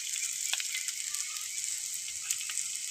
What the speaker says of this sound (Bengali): এটা ভালোভাবে ভাজা হয়ে গেছে, এবার দিয়ে দেবো এর মধ্যে ছিঁড়ে রাখা কাঁচা লঙ্কা